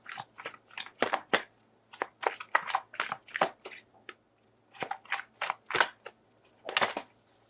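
Tarot cards are shuffled and dealt by hand, a close series of crisp riffling flicks and snaps in quick bursts, with short pauses between shuffles.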